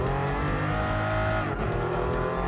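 Engine of a Pagani Huayra mid-engine hypercar revving hard in Gran Turismo Sport, a loud, sustained throaty drone with rising harmonics and a brief dip before it climbs again.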